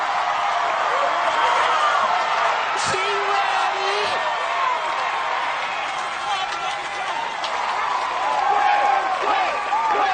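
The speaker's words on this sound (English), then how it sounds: "And the crowd chanting her name" Crowd at an American Ninja Warrior obstacle course competition cheers and calls out a woman competitor's name, a continuous loud roar with a commentator's voice briefly on top.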